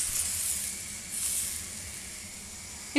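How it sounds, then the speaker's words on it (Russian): Pancake batter sizzling in a hot frying pan, a soft steady hiss that swells and eases, ending in a brief clatter. "Жарим блинчики на раскаленной сковородке."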